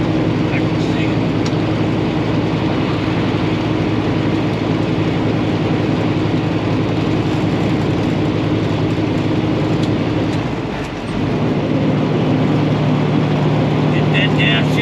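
A semi truck's diesel engine labors steadily up a mountain grade between Frederick, Maryland and Hagerstown, a loud continuous drone with a brief dip near the end, as if during a gear change.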